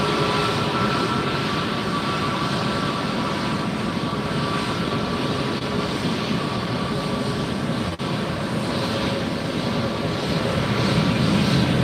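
JetBlue jet airliner at Fort Lauderdale airport, a loud sustained engine roar and rumble, fairly near and continuous throughout.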